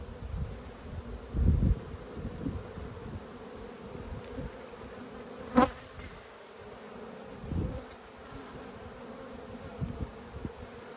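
Bees buzz faintly around an open hive during an inspection, a soft steady hum broken by a few louder thumps and one sharp click.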